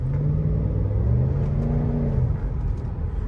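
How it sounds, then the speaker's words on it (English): A Cadillac DTS with a Northstar V8 engine revs under added throttle while driving, a deep steady rumble with rising and falling engine tones, heard from inside the car with no talking. "let's give it some more gas for you so you can hear"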